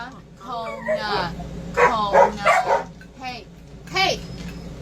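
An indoor dog gives a run of close, loud barks and yips, some coming in quick clusters with whimpering tones, over a low household background.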